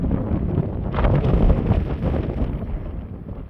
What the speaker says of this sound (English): It's windy and blowing and drifting snow.